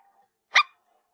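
A small dog lets out a single sharp, close bark in an otherwise quiet moment.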